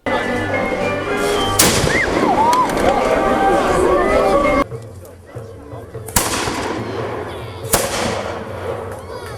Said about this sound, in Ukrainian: Ось він найдовгоочікуваніший момент на фестивалі сальви із гармат.